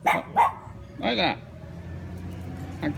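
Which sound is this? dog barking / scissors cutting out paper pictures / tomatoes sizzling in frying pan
dog barking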